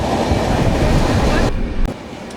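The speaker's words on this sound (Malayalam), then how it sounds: "നമ്മുടെ ഈ പോയത് സോളാപൂർ മുംബൈ CSMT വന്ദേ ഭാരത് എക്സ്പ്രസ് ആണ്" The Solapur–Mumbai CSMT Vande Bharat Express rushes past at close range in a loud, dense roar that cuts off abruptly as the last coach clears.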